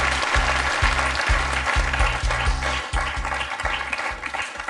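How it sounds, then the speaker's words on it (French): Studio audience applause on the French TV quiz show Questions pour un champion, a steady, dense wash of clapping that runs the whole time over a rhythmic low thumping beat underneath. "Un petit point pour Antoine, qu'on peut applaudir quand même, s'il vous plaît."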